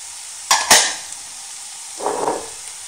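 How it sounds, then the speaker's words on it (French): Minced, blended meat lands in a hot frying pan with two sharp hisses, and a softer sizzle rises a moment later. The sound is close and there is no talking. "dans la deuxième poêle, je vais mettre ma viande hachée et mixée"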